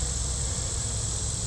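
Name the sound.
honeybees buzzing at the front of a hive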